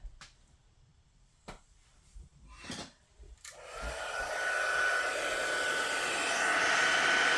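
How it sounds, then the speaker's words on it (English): A craft heat gun clicks on after a few quiet taps and blows a steady, loud, whooshing hiss for several seconds to dry embossed paper. "So I'm going to bring in my heat gun."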